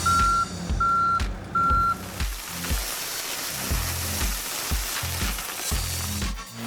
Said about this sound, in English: The dump truck is pouring sand while the hands spread it evenly.